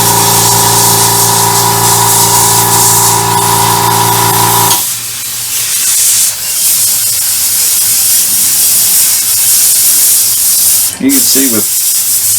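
An airbrush sprays paint onto a StuG III Ausf G model tank, giving a loud steady hiss that cuts off abruptly, then lighter spraying with a person talking over it.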